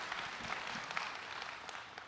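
An audience claps at a behind-the-scenes event, a fairly quiet, steady patter of applause heard at some distance, with a faint murmur underneath.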